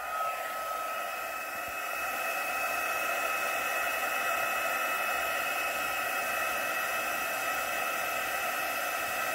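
A heat gun heat-sets embossing powder at a crafting table, blowing a loud, steady whoosh with a high whine that holds throughout with no talking.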